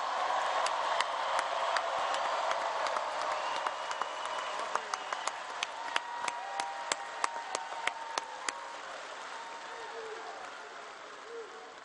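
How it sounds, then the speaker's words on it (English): Crowd applause at a Trump rally in Louisiana: dense, sustained clapping from a large audience with sharp individual claps standing out, gradually fading toward the end, with voices mixed in. "Let's give him another round of applause."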